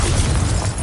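A Confringo blasting spell explodes in Hogwarts Legacy, a short loud booming burst with dense low rumble filling the whole moment, close and alone.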